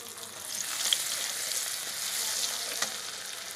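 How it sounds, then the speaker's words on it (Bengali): Onion, ginger and garlic fry in oil and butter with whole garam masala, dried chillies and cumin, giving a steady close sizzle with a couple of faint clicks. "মাখন দিয়ে এর মধ্যে গোটা গরম মশলা ভেজে দিলাম"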